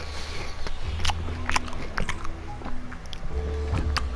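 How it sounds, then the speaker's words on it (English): Monster Munch beef crisps crunched in sharp, irregular bites close to the microphone, several distinct crunches in a few seconds against low steady background noise, no talking. "if you can hear someone crunching"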